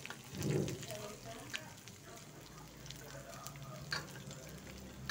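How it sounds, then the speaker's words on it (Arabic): Garlic and dried coriander sauté in a spoonful of butter in a pan, giving a steady, moderately close sizzle and crackle with occasional stirring clatter and a faint voice in the background. "دلوقتي التوم مع معلقه الزبده بيتشوح، حطيت معلقه الكزبره اهيت الناشفه وبقلب كويس"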